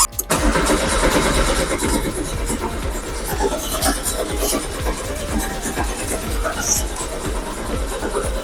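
The engine of a 1988 Citroen AX GT cranks over and over with a rapid, rhythmic churning that stays loud and close throughout, never quite catching into a steady idle.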